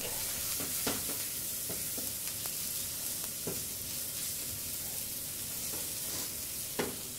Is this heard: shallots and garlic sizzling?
yes